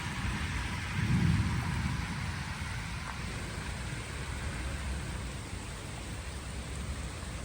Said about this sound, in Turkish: çok yağmur yağıyor ya